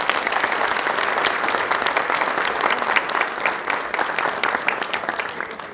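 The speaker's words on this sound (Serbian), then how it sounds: "jedan aplauz za njega" Theater audience at a festival opening night claps warmly for a jury member, a dense, sustained round of applause that holds steady before tapering off slightly.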